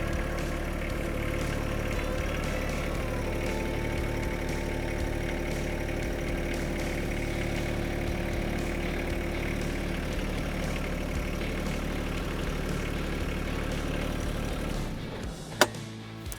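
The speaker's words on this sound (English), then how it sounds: "put it in low gear, and literally just drive over that deck, lining everything up" A John Deere tractor engine idles steadily in low gear with a deep, continuous rumble. It runs close and unbroken for about fifteen seconds, then stops with a brief sharp knock near the end.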